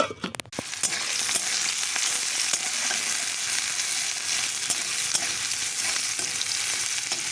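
Marinated meat is tipped into a hot wok after onion paste and sliced onion, landing with a brief clatter and then frying in a loud, steady, close sizzle.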